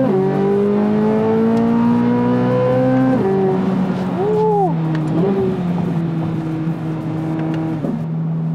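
A 2023 Chevrolet Corvette Z06 engine drives steadily at close range, its loud harmonic drone holding a sustained note, dipping and rising through several gear or throttle changes, with no talking over it.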